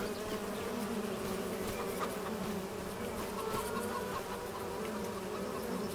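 Bees buzz around beehives in Farming Simulator 25, a dense steady insect drone with faint clucking of chickens mixed in, even and continuous throughout without talk.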